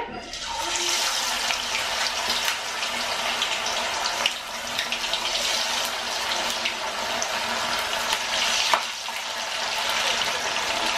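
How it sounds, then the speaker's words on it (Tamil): Masala-coated fish, four pieces, frying in hot oil, giving a steady, dense crackling sizzle that runs evenly throughout with small bursts of popping and no voices. "மீன் வந்து கீழே போய் ஒட்டிக்காது, நல்லா வந்து ஃப்ரை ஆகும்."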